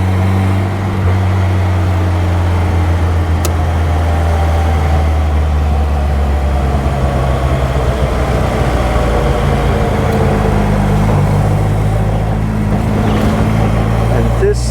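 A supercharged 1275 Austin-Healey Bugeye Sprite on the road, its engine droning loud and steady with a low rumble and rising and falling whine under occasional talk.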